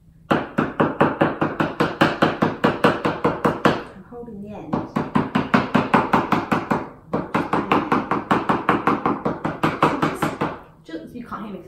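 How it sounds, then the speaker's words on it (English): A hand smacking a tabletop while painting with acrylics, loud rapid regular slaps in long bursts with brief pauses between them, and a voice talking over them. "you can't hear me because I'm smacking the table too much"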